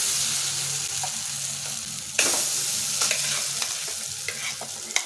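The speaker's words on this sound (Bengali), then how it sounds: "এখন এই মোচা বাটাটা এর মধ্যে দিয়ে দিচ্ছি।" Banana flower paste hits hot oil seasoned with asafoetida in a pan, bursting into a loud sizzle that slowly settles, with scraping stirs and occasional clicks of a spoon against the pan.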